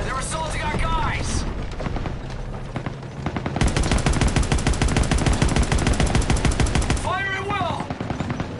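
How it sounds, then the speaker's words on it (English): Small arms and machine gun fire in Call of Duty WW2, a loud sustained rapid rattle in the middle with scattered shots and shouted battle voices before and after. "Small arms fire!"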